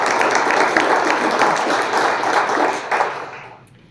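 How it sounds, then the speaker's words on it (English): An audience at a business event breaks into applause, a dense patter of clapping hands that stays fairly loud for a few seconds before thinning out and fading. "A round of applause for Bob."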